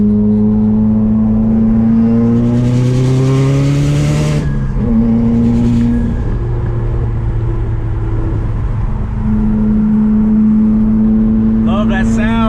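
A Subaru WRX engine revs and drives close and loud, its tone climbing through gears with shifts and sustained cruising, while a person speaks over it.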